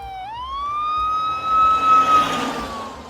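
A wailing siren rises sharply and holds a steady high tone, loud and close, with a low engine rumble underneath.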